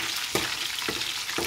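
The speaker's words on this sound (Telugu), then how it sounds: "ఎల్లిపాయలు ఏగుతాయి చూడండి, అసలైన తాలింపు టేస్ట్ ఇందులోనే ఉంటుంది" Garlic fries in hot oil for a tempering, a dense continuous sizzle close by, with a few brief stirring scrapes breaking through at regular intervals; no voices.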